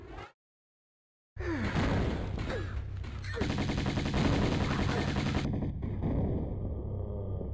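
Enemies firing on the player in Tomb Raider 1 Remastered, Atlantis level: after a brief silence, loud continuous rapid gunfire bursts with whooshing projectiles, then a fading tail.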